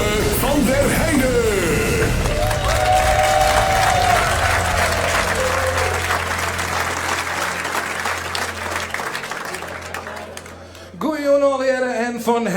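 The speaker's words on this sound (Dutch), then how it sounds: "maak nog één keer een heel groot applaus voor Jere uit de Westereng" Audience applause fills a live gala hall at a Frisian sports and business awards night, steady, loud and sustained for about ten seconds before dying away, with a brief burst of music near the end.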